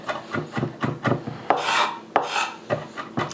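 A lemon scraped across a fine grater for zest, a rhythmic series of about a dozen close, dry rasping strokes, each short and crisp with a few longer sweeps, no talking.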